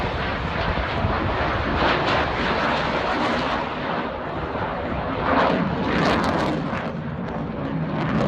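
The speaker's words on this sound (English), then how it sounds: "This fighter jet doing a slow flyby." Fighter jet roars past at a slow pace, a dense, continuous rumbling engine noise that swells and stays loud throughout.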